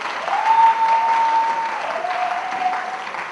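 A church congregation claps together in praise of the Lord, a dense, steady wash of applause filling the room, with a faint sustained tone running through part of it.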